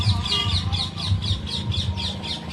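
Parrots giving a run of harsh, repeated squawks at close range, with low background noise and murmuring underneath.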